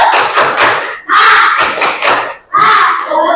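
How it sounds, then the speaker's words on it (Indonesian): A class of schoolchildren chants a rhythmic tepuk semangat clapping cheer with their teacher, loud and close, with bursts of clapped beats and shouted voices in three quick phrases. "Nah itu tadi tepuk semangat yang biar kita belajarnya lebih semangat lagi"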